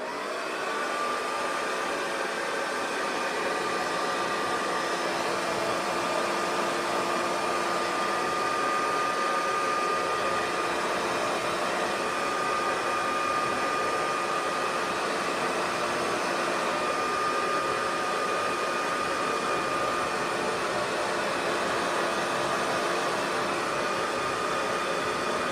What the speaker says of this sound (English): I use the blow dryer and I kind of work it back and forth to straighten it out